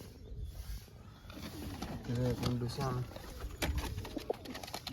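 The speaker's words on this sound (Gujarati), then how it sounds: "જો એમાં કબૂતર છે એના બચ્ચા છે" Pigeons kept in a loft with their chicks give a few soft, rolling coos under nearby conversation, quiet and close amid low background noise.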